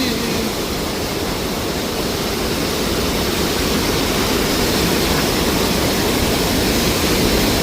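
A mountain waterfall near Kedarnath roars and sprays nearby, a dense, steady broadband rush that stays loud and unbroken throughout, with no voices.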